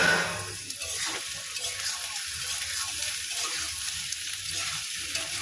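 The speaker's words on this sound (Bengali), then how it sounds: "আমি আলু কেটে রেখেছিলাম, আলুটা একসঙ্গে ভেজে নেব।" Potatoes and sliced onions fry together in a pan, giving a steady, close hiss of sizzling oil with a soft stirring scrape at times, and no voices.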